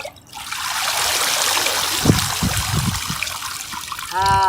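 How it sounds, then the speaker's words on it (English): Water pours through a metal colander in an outdoor children's play space, making a steady, close, rain-like trickle and patter that runs throughout. "The sound of running water for nap time."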